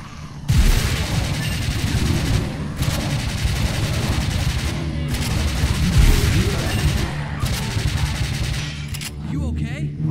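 Continuous heavy gunfire from the House of the Dead Scarlet Dawn arcade zombie shooting game, rapid bursts thundering throughout with voices and game sound mixed underneath.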